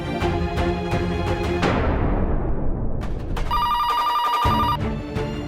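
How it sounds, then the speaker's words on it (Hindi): Telephone ringing out during a call to a bank helpline, a steady electronic ring that breaks through a loud dramatic background score in an Indian crime-drama scene. "मैं अभी फोन करती हूँ।"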